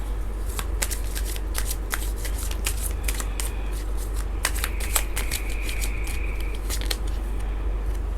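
Tarot cards are shuffled close up in quick riffling bursts and soft slaps, continuing steadily over a constant low hum.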